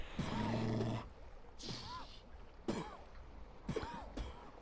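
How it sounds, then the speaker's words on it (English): Several harsh, raspy smoker's coughs from a video game, in short bursts separated by brief pauses, with a gravelly, wheezing quality; fairly close and moderately loud. "It kind of sounds like a smoker's cough."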